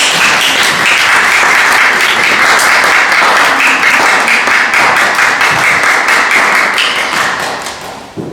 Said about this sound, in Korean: 박수로 함께 축하해 주시면 감사합니다.